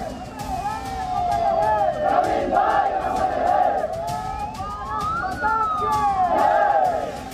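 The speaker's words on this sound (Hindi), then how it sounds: "अंतिम संस्कार के दौरान लोगों ने जमकर नारेबाजी की और परवीन नेट्टारू जिंदाबाद के नारे लगाए।" An angry crowd at Praveen Nettaru's funeral in Bellare, Dakshina Kannada, Karnataka, chants slogans together, loud rising-and-falling shouted calls repeating over a dense background of crowd noise.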